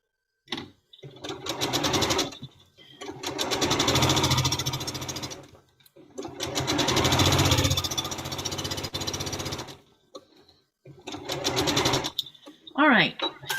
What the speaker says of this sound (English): And let's get this side sewn.